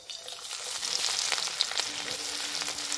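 Chopped onion hitting a generous amount of hot oil in a pan, giving a loud, steady, close-up sizzle and crackle that runs evenly throughout with no voices.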